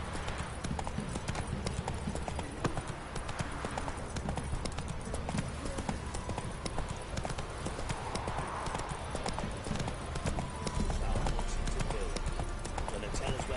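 The horse Roach galloping in The Witcher 3, a fast, steady drumming of hoofbeats running through the whole stretch, with a voice speaking over part of it.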